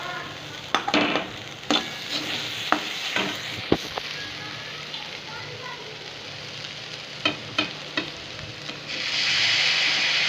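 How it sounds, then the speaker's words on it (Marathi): Cooked potato pressed with a spoon in a sizzling pan, a steady frying hiss broken by several sharp metal scrapes and taps of the spoon against the pan, close and clear. "मी या ठिकाणी चमच्याच्या साह्याने असं दाबून बघत आहे बटाटा शिजलाय का"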